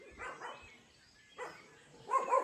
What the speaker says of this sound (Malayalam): ആ, പട്ടിയാണോ വന്നത്?